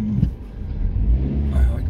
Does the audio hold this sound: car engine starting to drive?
yes